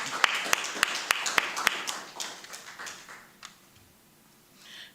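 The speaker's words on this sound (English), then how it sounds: "Give yourself a round of applause." Applause from a live and online audience at an authors' forum, a burst of sharp sparse claps that thins out and fades over a few seconds.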